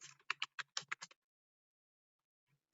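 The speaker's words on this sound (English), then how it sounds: "I'll just type it out before I explain." A quick burst of keystrokes on a computer keyboard, about a dozen crisp taps in under a second, close and clear, then silence.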